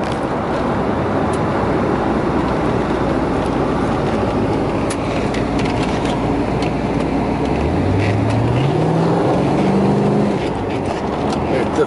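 A 1989 Chevrolet Corvette Targa with a 350 V8 cruising down a road, a steady loud engine and road roar heard from inside, the engine note rising as it pulls harder near the end, with someone talking over it.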